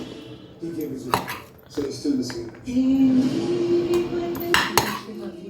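Fried rice is served onto plates at home with a spoon and dishes, giving several sharp clinks and scrapes spread through the clip, close by, while a voice and household sounds carry on underneath.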